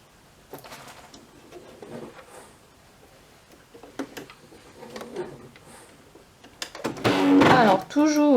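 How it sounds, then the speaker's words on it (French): A sewing machine stitches down a small fabric stop tab at a zipper end, a loud close whirring run near the end after quieter handling clicks and rustles, with a voice talking through the first part. "j'ai ma petite languette pour faire la finition, pour faire l'arrêt de mon zip, que je vais venir piquer"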